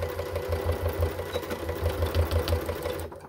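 A sewing machine stitches through thick running-backpack fabric with a fast, rhythmic mechanical thumping, close and steady for about three seconds before stopping abruptly.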